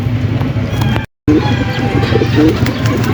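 A young dark check pigeon coos on the roof of a court, giving a few short soft calls over steady low background noise, with a brief break partway through.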